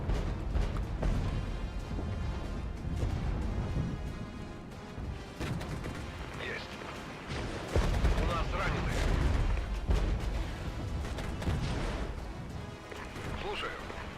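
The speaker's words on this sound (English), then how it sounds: "Oh, artillery barrage coming in clutch." Artillery barrage in the Regiments tank-warfare video game, dense booming blasts and crashing impacts rolling through the whole stretch, mixed under ongoing battle noise and voices talking over it.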